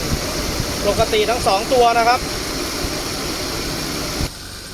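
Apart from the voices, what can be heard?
Nissan car air conditioning cooling fans running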